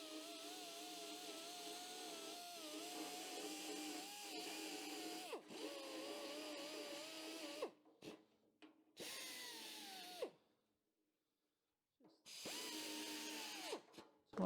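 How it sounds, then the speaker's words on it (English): An angle grinder works on a rusty car door in a repair job, whining steadily with pitch dips as it bites the metal, then stopping and restarting in short bursts with a near-silent gap before the last run. "Just a little bit round the back I can't get to with this grinder"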